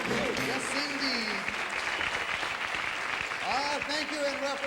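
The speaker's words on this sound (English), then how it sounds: "Let's play a game of musical chairs and give ourselves a round of applause." Studio audience on a 1975 Musical Chairs game show claps in sustained applause, with a host's voice speaking over it throughout.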